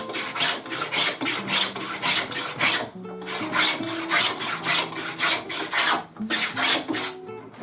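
A hand plane shaving wood to taper a chair leg for a stick chair, with repeated rasping strokes in a steady back-and-forth rhythm, loud and close, with no talking.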